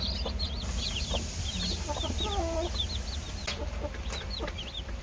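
A hen clucks softly while chicks peep in high, rapid chirps around her, heard close by against quiet background noise.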